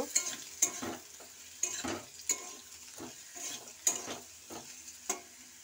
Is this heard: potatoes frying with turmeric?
yes